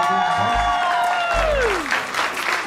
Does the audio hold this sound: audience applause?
yes